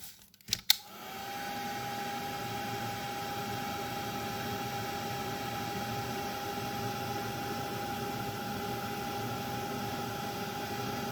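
Heat tool warming flock powder on a small craft card: after a couple of clicks it starts up and holds a steady, even whirring hiss with a faint tone, running close by without pause, with no speech.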